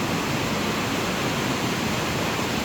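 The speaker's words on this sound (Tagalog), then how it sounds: "ingay ng ilog." Swollen river fed by melting snow rushes steadily past a bridge, a constant broadband roar of churning water with no pauses, close and fairly loud.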